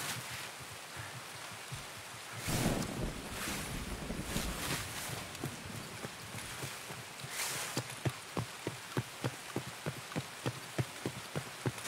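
Steady rain in a video game hisses and patters throughout, with a run of regular soft thuds like footsteps near the end.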